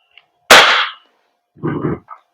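A single sharp, loud crack from an Umarex Glock 45 Gen 5 VFC airsoft gas blowback pistol fires close by, followed moments later by a shorter, duller mechanical clack.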